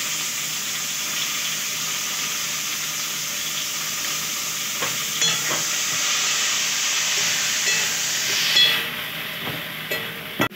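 Green plantain, yard-long beans and pumpkin hit a hot frying pan for a vegetable labra curry, setting off a loud steady sizzle and hiss with stirring scrapes and clinks that grow busier toward the end.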